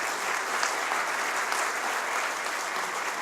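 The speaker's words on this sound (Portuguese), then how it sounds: "Recebendo as honras através de aplauso a todos os componentes da mesa citados, nominados novamente." Steady, dense applause fills the room as an audience at an engineering award ceremony honors the members of the panel, a continuous wash of many hands clapping at a constant level.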